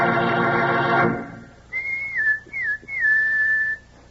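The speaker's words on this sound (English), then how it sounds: "Sounds like a pal of yours whistling for you, doesn't it?" A person whistles a bright, sliding melodic call of three rising-and-falling phrases, clear and fairly close, after a burst of music cuts off.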